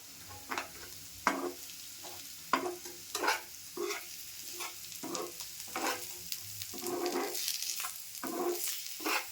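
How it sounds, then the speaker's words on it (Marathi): Dry prawn masala with coriander being sautéed in a pan in Malvani home cooking, giving a soft steady sizzle broken by repeated scraping stirs at an irregular rhythm, close and moderately quiet with no talk. "थोडी कोथिंबीर टाकून मी ना परतून घेते"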